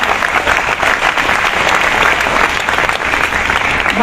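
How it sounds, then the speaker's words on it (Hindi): A lecture-hall audience claps for Dr. Giri, a dense, loud, even round of applause lasting several seconds without pause. "ताली तो बजा दीजिए सर की मेहनत की।"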